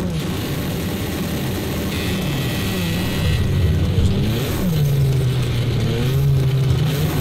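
A racing car engine in a driving video game revs loudly, climbing in pitch and dropping as it shifts rapidly through the gears, a steady close roar with little talk.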